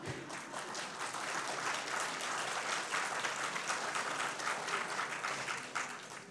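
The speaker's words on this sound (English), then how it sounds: "I presume that applause is for the Congress." Broad audience applause at a talk on politics and the republic, dense continuous clapping from a sizable crowd holding steady throughout, fairly distant and without speech over it.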